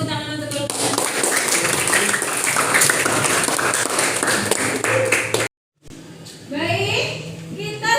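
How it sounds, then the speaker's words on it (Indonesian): Classroom applause for a student group during a school lesson in Indonesia, a burst of clapping for several seconds, then a cut and a teacher's voice speaking afterward. "Kasih tepuk tangan untuk kelompok."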